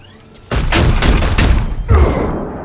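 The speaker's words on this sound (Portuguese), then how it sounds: "Vamos dar mais um tiro nele." Gunfire from the video game Warhammer 40k: Chaos Gate - Daemonhunters, a loud booming volley that erupts suddenly and rumbles on, followed by a second heavy blast that slowly fades.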